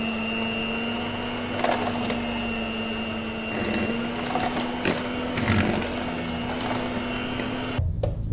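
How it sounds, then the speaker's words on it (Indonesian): An electric hand mixer beats butter and sugar for a cake batter, a steady motor whine running throughout with uneven bursts of beater clatter, before cutting off near the end. "Kita mixer."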